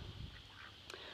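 Ducks quack at a farm's duck area during hot weather, short and close over a steady low background hum, with a brief, sharper call near the end.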